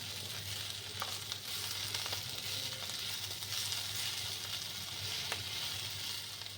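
Cauliflower florets with onion stalks and half a teaspoon of sugar frying in a pan, a steady close sizzle with a low hum beneath and a few scrapes of stirring.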